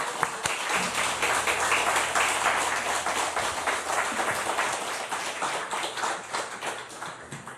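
A church congregation applauds to welcome two pastors at a revival meeting, a sustained round of clapping that carries on steadily for several seconds with a few louder individual claps.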